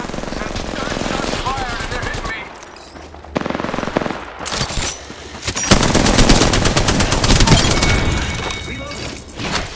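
Loud, close automatic gunfire in the battle royale game Apex Legends: rapid bursts with a brief lull partway through, layered with other game effects and faint voices.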